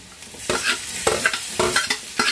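Capsicum tossed into frying onions for an egg Maggi and stirred in a pan, close rhythmic scraping strokes of a spatula over a bright sizzle of hot oil, about five strokes in quick succession.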